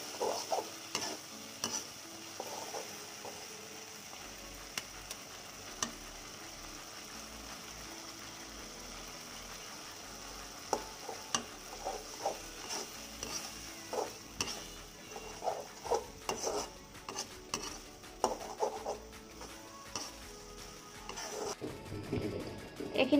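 Tomatoes and two eggs fry in a pan while being stirred, a quiet sizzle with scattered scraping clicks from the utensil, growing busier and louder toward the end.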